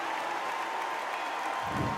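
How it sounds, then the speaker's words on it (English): A capacity arena crowd in the boxing video game Undisputed cheers and applauds in a steady, dense roar that holds at even loudness throughout, with no clear speech over it. "So a capacity crowd here for this one."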